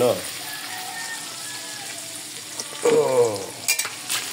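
Liver and chicken gizzard adobo frying in a pan, a steady close sizzle with scattered pops and splatters, a stir or scrape near the end.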